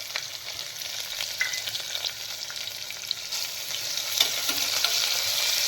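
Curry leaves and fennel seeds crackle and fry in hot oil, a steady close sizzle with scattered pops and a brief louder burst near the end, no voices.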